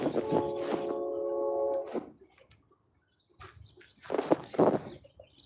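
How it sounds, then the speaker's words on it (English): Small birds call from trees outdoors, a sustained harmonic chirping phrase and then a cluster of brighter short chirps after a quiet gap, moderately near with no talk. "it's nice how you can hear the little birds chirping in the trees and stuff"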